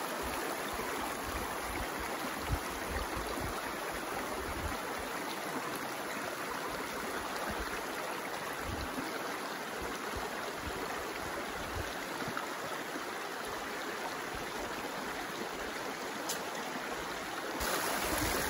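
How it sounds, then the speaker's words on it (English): The Jarbidge River in the Nevada backcountry wilderness rushes over its bed in a steady, full wash of water, constant and close, with no voices. "More Jarbidge River footage."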